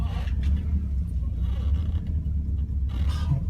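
A 1959 Cadillac Coupe engine idles low and steady while the car reverses, a continuous deep rumble close by with a faint rise near the end.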